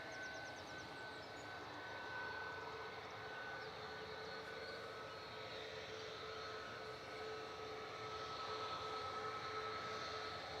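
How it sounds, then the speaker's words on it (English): A Boeing 737 MAX 8 departing Manchester Airport, its engines giving a steady, far-off roar that stays level throughout, with a faint high whine over the rumble. "G Tom F is 737 MAX 8 departing next."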